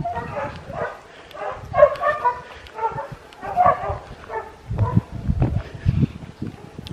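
Mongrel dogs kept outdoors in Jamaica bark and yip in short bursts at moderate distance, mixed with a voice talking nearby.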